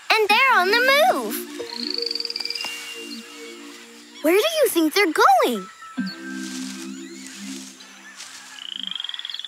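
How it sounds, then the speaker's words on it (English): Poison dart frogs in a rainforest give off a chorus of rising, warbling chirps and trills in bursts over steady ambient hum, close and clear, while a person talks over them. "There's tons of poison dart frogs."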